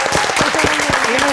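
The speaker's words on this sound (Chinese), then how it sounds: "掌声欢送一下啊" A studio audience on a talk show claps to send guests off, a short, lively burst of applause with individual claps standing out, while a voice talks over it.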